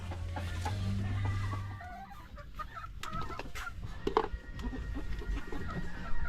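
Several backyard chickens cluck and peck while eating, with busy clucks and scattered calls close by, over a low hum at the start and irregular pecking knocks.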